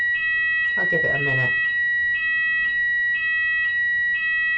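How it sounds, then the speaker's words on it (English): A fire alarm beeps in steady repeated pulses, loud and high-pitched, with a person speaking briefly over the first beeps. "sorry, that's the fire alarm."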